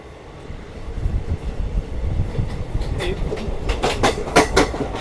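The 13175 Sealdah–Silchar Kanchanjungha Express running on the line, a loud, steady rumble of carriages with rhythmic clickety-clack of wheels over rail joints growing sharper toward the end.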